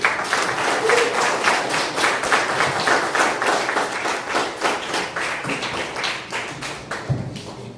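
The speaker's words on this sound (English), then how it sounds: "let's give another warm round of applause to all of our speakers" A room of attendees at a festival kickoff event gives speakers a warm round of applause, close, loud clapping from many hands with distinct sharp claps, tapering slightly toward the end.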